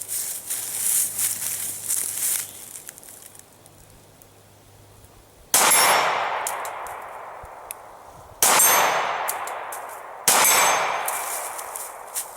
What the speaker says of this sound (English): we're going to take some shots at some distance just to show Glock 19 can go out beyond typical self-defense distances